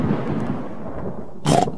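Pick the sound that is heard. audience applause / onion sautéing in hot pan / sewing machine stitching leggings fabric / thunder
thunder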